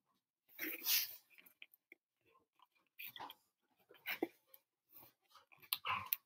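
A dog snuffles and breathes close by in short, quiet bursts, with faint whimpering sounds between pauses.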